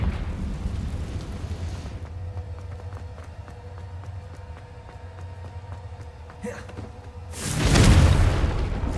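Confringo fire spell cast in Hogwarts Legacy, a booming explosive burst that erupts loudly near the end after a stretch of quieter game ambience.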